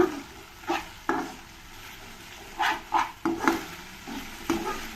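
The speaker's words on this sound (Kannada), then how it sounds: "ಹೈ ಫ್ಲೇಮಲ್ಲಿ ಇದನ್ನು ಕೂಡ ಸ್ವಲ್ಪ ಚೆನ್ನಾಗಿ ಮಿಕ್ಸ್ ಮಾಡ್ಕೊಳ್ಳೋಣ" A spatula stirs cornflour slurry for gobi manchurian over high flame, with intermittent scrapes and knocks against the pan over a low, steady sizzle.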